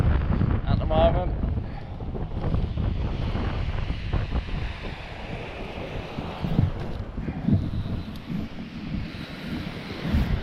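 Wind blows at night beside the Haslar sea wall, a loud buffeting rumble against the microphone with surf-like washing, continuous throughout while someone talks over it.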